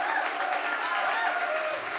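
Church congregation applauds and shouts in a sustained, dense wash of clapping and cheering that fades slightly toward the end.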